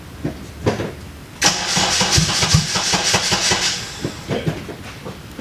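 A Honda Civic's starter cranks in a rapid rhythmic churn for a couple of seconds before the engine catches into a loud, rough run, with sharper clatter and pulses through the rest, close by and with no talk over it.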